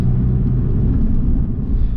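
A Porsche 911 996 sports car driving, a steady low engine and road rumble heard from inside with constant level and no voices.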